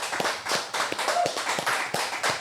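A small studio group gives a podcast guest a round of applause, a sparse patter of distinct close hand claps in an uneven rhythm.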